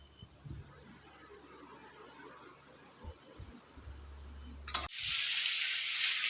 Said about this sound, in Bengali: তো এখন রান্না করবো, আলু ভাজবো এখন।